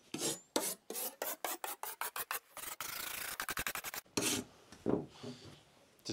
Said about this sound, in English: Whether it be mechanically with one of these wire brushes or a hand brush, this is what I'm going to start with.